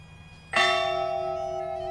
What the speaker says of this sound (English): The ringing of the bell started their shift, and Thursday it rang one last time for Jim.